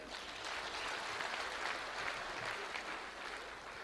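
Mourners applauding at a burial in Kenya, a sustained wash of clapping from a large crowd that holds steady for several seconds with no voice over it.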